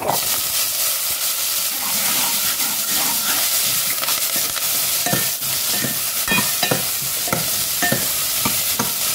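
Chopped onion sautéing in an oil-filled pan for a mutton bone curry, giving a steady broadband sizzle with intermittent scraping stirs from a spatula, close and continuous with no talk.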